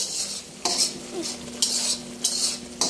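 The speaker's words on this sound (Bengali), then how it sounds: "এইভাবে আমি মশলাটা আমি কষিয়ে এইভাবে কষিয়ে নিচ্ছি, আস্তে আস্তে কষাতে থাকবো" A spoon stirs spice paste sautéing in a pan for pangas fish curry, scraping in four bright, regular strokes over a continuous sizzle; close and clear, with no talking.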